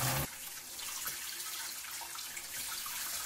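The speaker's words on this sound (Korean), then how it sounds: "샤워 모드로 바꿔서, 샤워기처럼 이렇게 물 나오게 바꿔서 잘 헹궈주고요." A kitchen faucet set to shower spray mode rinses detergent out of a sink during dishwashing, giving a steady, close, broadband hiss of water spattering on the basin.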